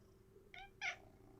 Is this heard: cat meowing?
yes